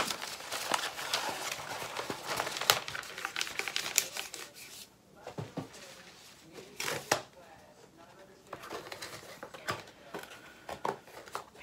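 Parchment paper crinkles and rustles during the unboxing of a painting kit, with irregular, busy crackles and taps close by, while a person talks over part of it.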